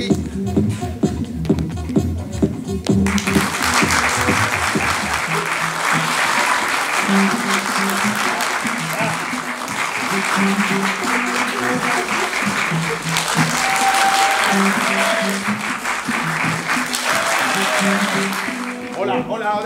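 Audience at an improv theatre festival in Paris breaking into sustained loud applause after a few seconds of talk and music, clapping continuing over background music to the end.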